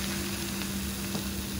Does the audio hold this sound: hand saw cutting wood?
no